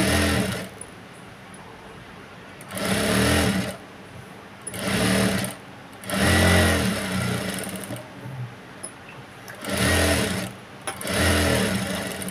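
A sewing machine stitches blouse cloth in repeated runs of a fast, even mechanical whirr, each lasting about a second or two with short pauses between them, close and clear with no talking.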